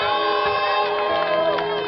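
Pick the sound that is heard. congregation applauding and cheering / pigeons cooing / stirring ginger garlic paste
congregation applauding and cheering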